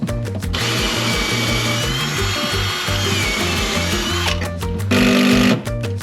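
A power drill driving screws into a wall mounting plate on a boat, with a sustained close whirring drive broken by short stop-and-start bursts near the beginning and end, and no voices.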